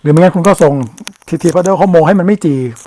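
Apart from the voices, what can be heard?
No everyday noise stands out behind the speech.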